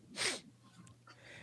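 A single short, sharp sneeze bursts out close by, followed by quiet breathing.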